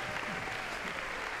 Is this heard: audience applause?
yes